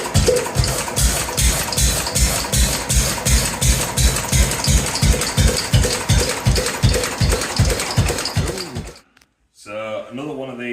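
A 1918 Lister N type single-cylinder engine chugs loudly in a steady, slow rhythmic beat of regular thumps, then cuts out abruptly before a voice speaks.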